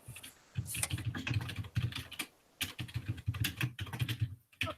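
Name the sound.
fast typing on a computer keyboard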